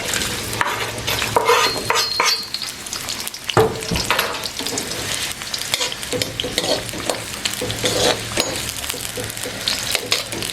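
Sliced onions hitting hot oil in an iron kadhai, a dense, loud sizzle with stirring scrapes and occasional clinks of the spoon against the pan, up close with no voices.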